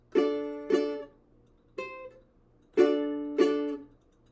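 A ukulele played fingerstyle sounds a chord from a song in bright plucked strokes, five clear separate plucks that ring and decay, close and quiet with no talking.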